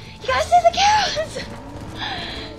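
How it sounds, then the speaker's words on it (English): Cattle low in Red Dead Redemption, a few loud, close moos during a stormy stampede near a cliff, with a voice briefly audible among them. "You gotta save the cows!"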